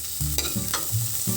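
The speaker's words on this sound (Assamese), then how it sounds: "আলুখিনি অলপ ভালকৈ ৰঙচুৱাকৈ ফ্ৰাই কৰি ল'ম" Potatoes fry in a pan with a steady close sizzle, broken by a few stirring scrapes that come in short bursts, with no voices.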